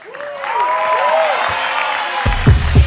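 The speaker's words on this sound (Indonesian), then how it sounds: "Tepuk tangan untuk Sukabumi." Spectators clap for the Safa Dance Art Sukabumi troupe at a televised dance competition, steady applause mixed with gliding whistles or calls and a couple of louder thumps toward the end.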